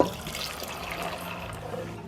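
Water pours steadily into a pot of black-eyed peas with pickle meat, a soft continuous splashing and trickling heard close by and fairly faint.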